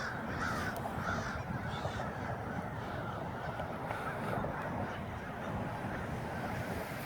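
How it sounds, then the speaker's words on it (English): A large flock of black crows caws in a dense, continuous chorus, loud and unbroken throughout with no talking. "That's a lot of birds, guys."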